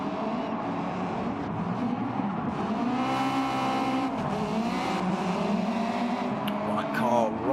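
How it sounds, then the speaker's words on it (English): Subaru race cars in a racing video game roar and rev close by, with tire squeals and skidding as they slam into each other, a continuous loud engine din throughout. "3 Subarus firing themselves into each other"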